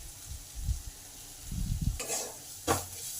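Onions fried with turmeric, chilli, cumin and coriander powder for rui fish chops: a low steady sizzle with bursts of scraping and stirring against the pan, close by and with no talking.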